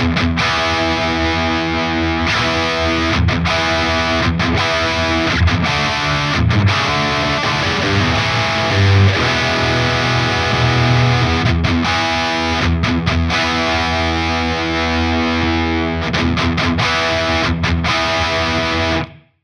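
Distorted electric guitar through a Friedman IR-X twin-channel valve preamp with the tight switch engaged, chugging riffs and sustained chords in a dense, continuous wall of sound with brief choked pauses, loud and close, no talking.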